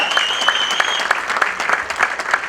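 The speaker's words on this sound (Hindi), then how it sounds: "तालियों की आवाज रुकनी नहीं चाहिए" Audience applause fills a stage event as leaders are called up: steady, dense clapping from a large crowd with regular louder accents and a thin sustained high tone running through it.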